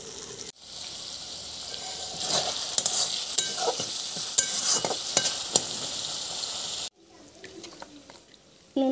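Fish rubbed with salt and turmeric goes into a hot spiced masala for singi fish curry, a steady sizzle and frying hiss with stirring clatter, cutting off briefly near the end before resuming more quietly.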